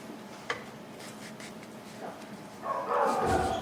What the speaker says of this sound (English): Gun dogs. They must be starting to shoot again.